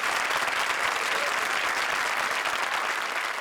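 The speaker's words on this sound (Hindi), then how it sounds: "जोरदार तालियां प्रिंस के लिए।" A studio audience at a Hindi comedy show applauds loudly, a dense, steady wash of clapping that continues without a break throughout.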